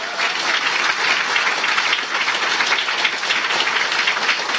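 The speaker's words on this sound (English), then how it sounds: "how about a real round of applause for these guys who came up and very much exposed themselves tonight" An indoor tech meetup audience gives a steady round of applause, a dense even wash of many hands clapping throughout with no voices on top.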